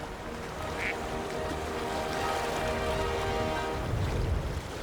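Ducks quack a few times over a steady wash of falling rain, the calls fairly close and brief against the constant patter.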